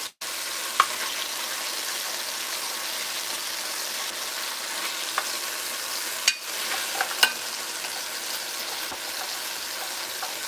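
A utensil scrapes and stirs chicken stew in a pot, over a steady sizzling hiss of frying with a few sharp clicks and scrapes scattered throughout.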